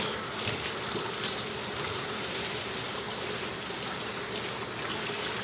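New biological filter media being rinsed under a steady stream of running water, a constant loud gushing wash that fills the whole span without breaks.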